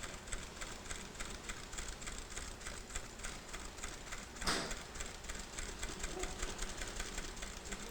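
A sewing machine stitches fabric under an edge guide foot, a fast steady rhythmic clatter running throughout at moderate loudness, with one brief sharper knock midway.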